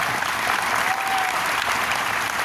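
An audience at an Amway event in Mumbai claps, a dense, loud burst of applause that holds steady for the whole moment with no one speaking over it.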